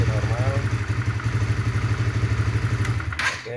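A 2007 Honda CBR motorcycle idling up close with a steady, even low pulse, loud and continuous, with a brief clatter near the end.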